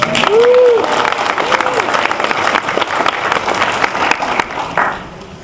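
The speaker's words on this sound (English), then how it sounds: "a round of applause, everyone" An anime convention audience in a panel room gives a round of applause, a strong burst of clapping with a few cheers that gradually tapers off over several seconds, with a voice briefly heard at the start.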